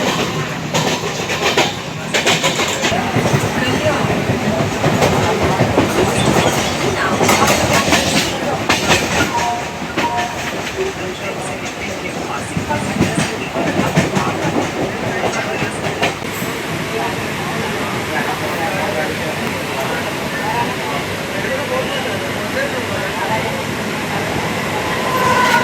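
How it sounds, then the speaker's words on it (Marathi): A moving passenger train rumbles steadily from inside the carriage, with rhythmic clickety-clack of the wheels over the rails and a loud rolling din that eases slightly later, while a voice talks faintly in the background. "आता आपण ट्रेनमध्ये चाललेलो आहे"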